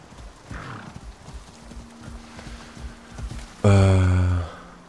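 Horse in the survival video game ICARUS, with soft hoof clip-clops followed by a loud, close neigh that rings out and fades, with no speech.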